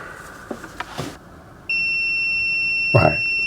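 An electrician's continuity tester sounds a steady, loud, high-pitched electronic tone that starts abruptly partway through and holds, after some handling noise, while testing a circuit during fault finding.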